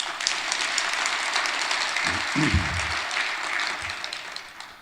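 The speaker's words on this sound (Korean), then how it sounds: "박수 한번 쳐드려요" A church congregation applauds the Gloria choir, a broad wash of clapping held at an even level for several seconds, with a brief low murmur of voices in the middle.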